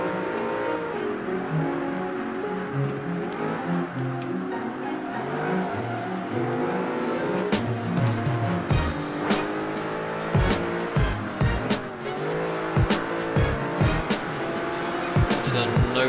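Race cars in Project Gotham Racing 3, among them a Noble and a Porsche or RUF, with engines droning and revving through gear shifts and tires squealing, a continuous loud roar of several cars under game music.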